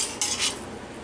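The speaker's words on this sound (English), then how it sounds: "Nice big old scoop right down on the plate" Buttered spaghetti scooped onto a plate, with a couple of close clinks of a metal utensil against the dish over a short, soft scraping rustle. No talk.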